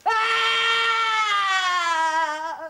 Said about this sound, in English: Catherine Howard runs to another door and screams her head off at the sight of pikes in front of her